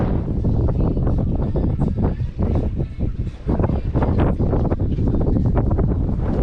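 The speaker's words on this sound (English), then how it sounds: "Alright, so the wind's dropping down now." Strong wind buffets the microphone on a fishing boat out on Lake Awoonga, a loud continuous roar and rumble with gusty swells and a brief lull in the middle, no voices.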